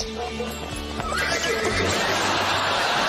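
A loud, close horse neigh from the TV drama Heartbeat rises and trails off, with hooves shuffling and clopping beneath it.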